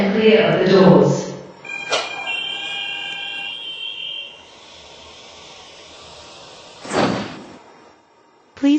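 Automatic airport train doors hiss shut with a loud burst, then a short chime and a low cabin hum before a second blast of air near the end; a recorded announcement voice speaks at the start.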